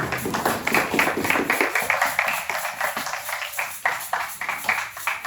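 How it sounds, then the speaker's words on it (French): A church congregation at a worship service in Limoges claps in a steady, fairly loud rhythm, continuous beats running throughout, with a low musical tone entering partway. "Sous vos acclamations."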